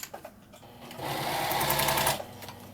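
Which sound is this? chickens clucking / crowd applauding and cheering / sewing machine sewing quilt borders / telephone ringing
sewing machine sewing quilt borders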